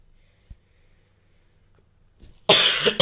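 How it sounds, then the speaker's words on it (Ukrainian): After near silence with a small click, a single loud, harsh cough erupts close by near the end. "а бачите, кашель"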